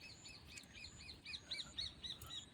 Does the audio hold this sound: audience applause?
no